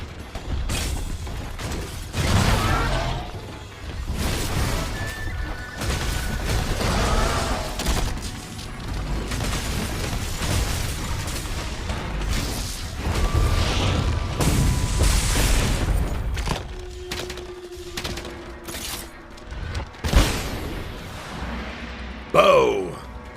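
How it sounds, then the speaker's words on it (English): Charge blade Savage Axe Slash swings in Monster Hunter World Iceborne: repeated heavy whooshing blade strikes with grinding, mechanical whirs and booming impacts, dense and loud throughout with game sounds layered over them. "The new Savage Axe Slash puts a new spin on the charge blade and adds more damage to each swing of the axe"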